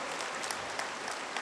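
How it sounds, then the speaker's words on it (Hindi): Audience applause at an evening plenary session of a spiritual organisation's anniversary event, a brief steady wash of many hands clapping, dense and fairly distant. "इसको जोर से ताली बजा करके अभिवादन करें।"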